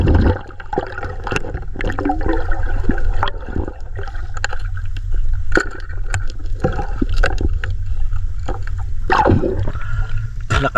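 Loud, churning water rushes and gurgles continuously, with irregular splashes and knocks breaking through the steady roar.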